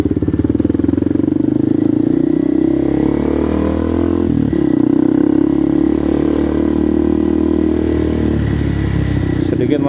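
A motorcycle threads through a traffic jam, its engine droning steadily up close with small rises and dips in revs, and other traffic rumbling around it. Someone talks over the engine noise.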